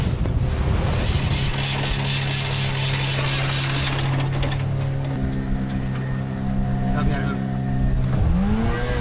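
A boat motoring under inboard engine power into a strong headwind at sea, with a steady low engine drone and harmonic hum beneath gusty wind buffeting the microphone and water noise throughout.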